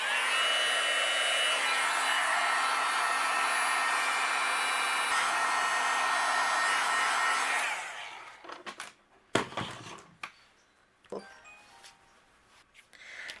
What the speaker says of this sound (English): We're going to grab our heat gun.